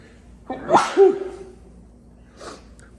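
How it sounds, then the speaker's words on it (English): A single loud sneeze up close, a sharp burst with a quick intake before it, followed by a faint sniff or breath a moment later. "hold on, I'm gonna sneeze a second"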